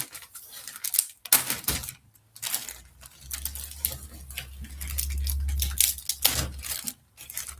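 Cellophane plastic wrapping from a Revell model kit crinkles and tears in sharp bursts of rustling, with a low hum in the middle stretch and no talk.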